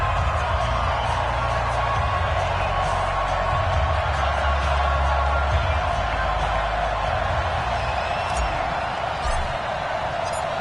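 Steady stadium crowd roar from an EA Sports NFL video game, Buffalo Bills versus Pittsburgh Steelers, a dense continuous wash of cheering with faint whoops on top.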